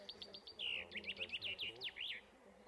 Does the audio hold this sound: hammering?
no